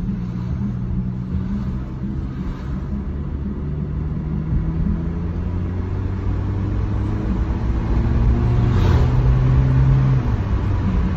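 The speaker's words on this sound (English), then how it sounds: "Let's give her a little test drive" A Honda car on a test drive, steady close interior engine drone with tones climbing and dropping as it shifts through gears, rising in loudness toward the end, no talk.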